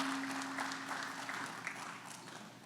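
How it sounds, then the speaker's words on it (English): Steady applause from a conference audience, a dense patter of clapping that holds evenly throughout, with a faint tone running beneath it early on. "give yourself a round of applause for your commitment to"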